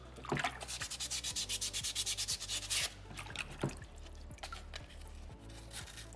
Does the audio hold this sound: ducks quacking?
no